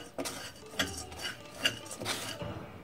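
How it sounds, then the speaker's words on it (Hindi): Cashews and almonds are stirred and roasted in a metal kadhai for Holi gujhiya. A spatula scrapes and clinks against the pan in irregular close strokes, with no talk. "अब इसी कढ़ाई में काजू और बादाम को भून लेंगे।"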